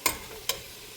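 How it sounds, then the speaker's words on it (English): Beef frying in a pot for cook-up rice gets two quick, sharp stirring scrapes over a faint, low sizzle, close and short. "I'm frying it up."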